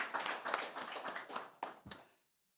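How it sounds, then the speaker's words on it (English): Audience applause for forum speakers after an opening session at a conference, a short burst of scattered hand claps that thins out and stops abruptly after about two seconds, leaving silence. "Can we have another round of applause for our speakers from the opening session?"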